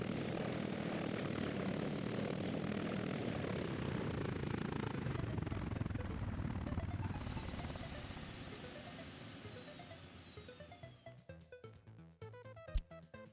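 Helicopters fly over a town under construction in the Soviet-era city-building game Workers and Resources: Soviet Republic. A steady, dense rotor and engine drone fills most of the stretch, then thins and fades, with a few sharp clicks near the end.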